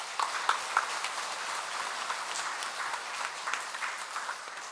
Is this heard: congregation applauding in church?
yes